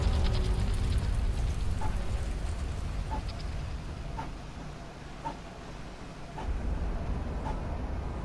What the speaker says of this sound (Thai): ฝนตกเลยเดียว